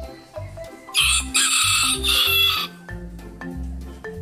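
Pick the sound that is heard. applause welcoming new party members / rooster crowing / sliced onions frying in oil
rooster crowing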